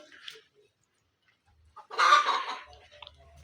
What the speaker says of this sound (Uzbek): Qora tovuq shu uyga damashni tuxum chiqarib turibdi.